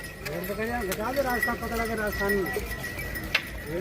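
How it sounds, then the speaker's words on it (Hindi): Sheep and goats walking along with a pilgrimage group bleat repeatedly in wavering calls, close and fairly loud, with faint hoof and bell clinks and some talking mixed in. "भेड़ बकरियाँ मेरी भेड़ बकरियाँ भी मेरे साथ जा रही है राजस्थान"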